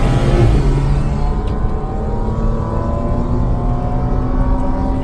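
A Porsche eases out of the pit lane onto the Sepang race track, its engine droning steadily and loud from inside the car as it accelerates gently.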